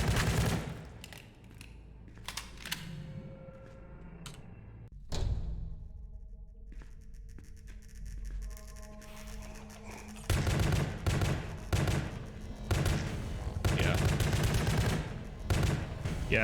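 Bursts of gunfire from the video game The Pony Factory, repeated shots and rapid volleys with a quieter stretch between, loudest in a dense run near the end.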